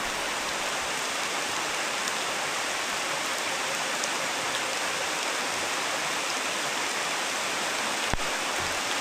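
Steady rain pours down close by as a dense, unbroken hiss with no pauses. A single sharp tick comes near the end.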